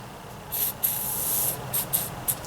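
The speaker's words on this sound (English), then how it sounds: "Maybe I'll give her a little spray, maybe." Several short bursts of aerosol spray onto a fine-thread nut hiss, close by, starting and stopping in an irregular rhythm over a low background hum.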